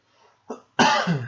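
A couple of sharp coughs close up from a video game commentator, a short one followed by a longer, harsher cough.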